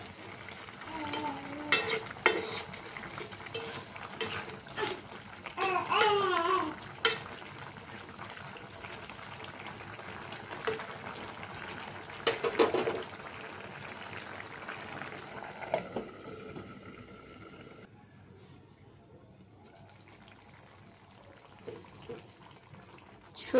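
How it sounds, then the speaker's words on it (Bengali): Vegetable curry of okra, cucumber, ripe tomato and shrimp bubbling in a pot, stirred with scraping and clattering spoon strokes and a steady simmering hiss, louder bursts early on, then quieter bubbling near the end. "তরকারিটা বলক এসেছে, একটু নাড়াচাড়া দিয়ে দিব।"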